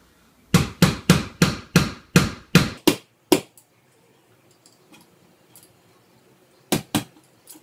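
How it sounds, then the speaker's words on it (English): Nine quick, even hammer taps on a hard piece in a steady rhythm, then a pause with faint shuffling, followed by two more sharp taps close by. "I get a hammer and hit the end of it a couple times."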